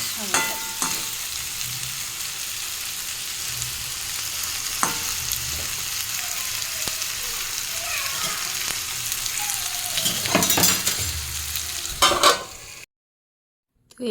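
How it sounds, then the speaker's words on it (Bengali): Chicken being stir-fried in oil gives a loud, steady close sizzle with occasional spatula scrapes and clanks, swelling near the end before cutting off abruptly into near silence. "যে মাংসটা কষাই করছি দেখো তেল ছেড়ে দিয়েছে"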